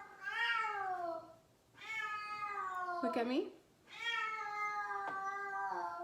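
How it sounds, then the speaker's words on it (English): A pet cat meows loudly and drawn-out three or four times in a row, close to the microphone, while someone talks to it in between the calls. "Kitty, you're not going outside, kitty."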